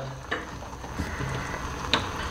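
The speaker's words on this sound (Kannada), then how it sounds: "ಫ್ರೂಟಿ ಹಾಕ್ಬಿಟ್ಟು ಮ್ಯಾಗಿನ ಕುಕ್ ಮಾಡಿದ್ದೀನಿ." Maggi noodles cooking in Frooti mango drink in a pan over a raised flame, giving a steady soft sizzle with a few louder stirring scrapes and clinks.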